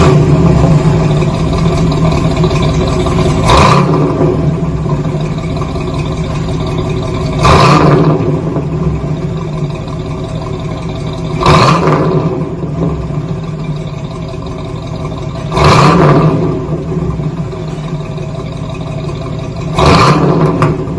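A 1968 Cadillac El Dorado V8 with stock exhaust and single-chamber V-tube mufflers idles with a rumbling, lopey tone, then is blipped about five times at regular intervals, each rev swelling loudly before settling back.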